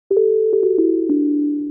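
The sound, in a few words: normal sine wave preset from a piano plugin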